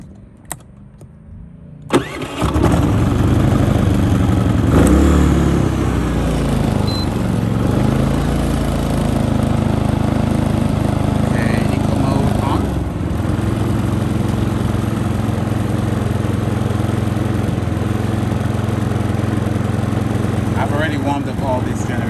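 A Predator 3000–3800 watt portable generator pulls to a start and settles into a steady, loud mid-pitched running drone close by, with a voice speaking briefly over the engine.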